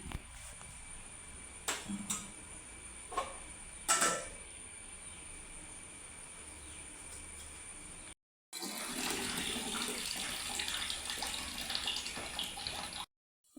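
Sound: water being poured into a pot for cooking

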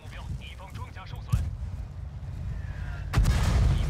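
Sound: artillery fire in the video game World of Tanks

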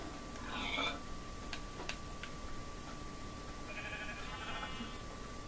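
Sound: sheep bleating in the video game Minecraft

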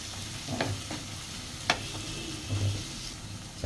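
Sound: stirring bay leaves in a frying pan

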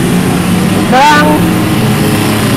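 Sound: racing motorcycle engine running

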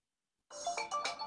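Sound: phone ringing from smartwatch find-my-phone feature

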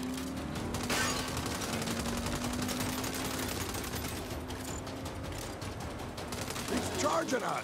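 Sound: gunfire in the video game Saints Row (2022)

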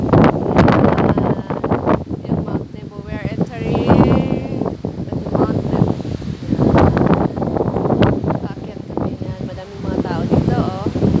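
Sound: strong wind

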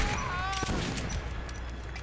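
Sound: shotgun firing both barrels in video game Metro 2033

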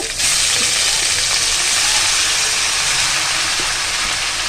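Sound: vegetables frying in hot oil

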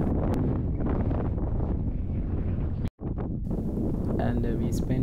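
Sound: strong wind blowing at a seaside regional park

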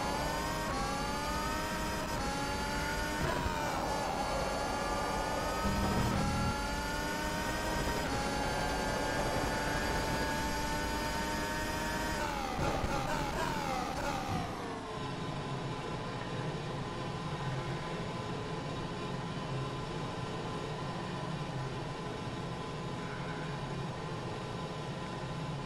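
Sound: F1 car engine in rFactor 2 racing video game

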